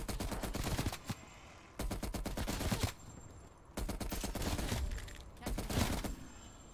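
Sustained bursts of LMG machine gun fire in Cold War zombies, four long rattling volleys at close range separated by brief pauses, loud and rapid.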